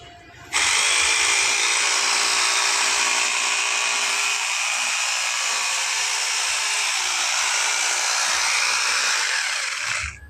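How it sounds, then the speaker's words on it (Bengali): Electric drill machine powered from an MPPT solar inverter, switching on abruptly and whining at a steady high pitch for about ten seconds before stopping, close and loud with no speech. "ড্রিল মেশিন আছে, এটা লোড দিয়ে দিলাম"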